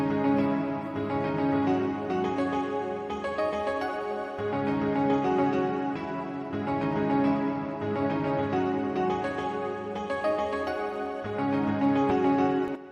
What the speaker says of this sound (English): for this I'm using Nexus, and I'm using the Netherworlds preset